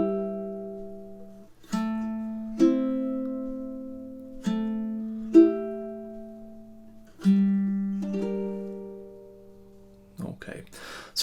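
Ukulele playing the minor section of Erik Satie's Gymnopédie No. 1, measures 17 to 21: slow, evenly spaced plucked chords over a ringing low note, soft and close, ending with a brief rustle.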